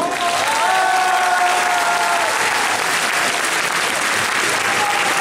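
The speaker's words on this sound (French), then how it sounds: "Un applaudissement pour Doug Walker, qui est présent." A large crowd claps at a convention panel at the Toulouse Game Show, loud, dense and continuous throughout, with a voice briefly audible over it near the start.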